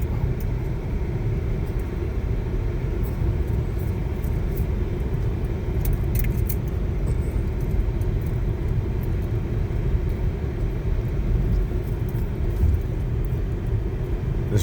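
A GMC Terrain SUV crawls over a rough, rocky wilderness road, its cabin filled with a steady, close low rumble and faint rattles throughout.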